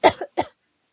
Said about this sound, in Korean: 기침을 해요.